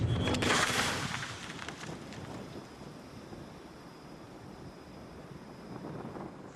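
A cannon firing canister shot at a Waterloo battle reenactment: one loud booming blast at the start, then a long rumbling decay and echo rolling away over open ground.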